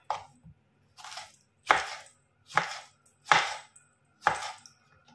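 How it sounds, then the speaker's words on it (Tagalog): A knife cuts through a tomato on a board, giving six crisp, evenly spaced chops close up with short silences between them. "Iwain na natin yung ating kamatis."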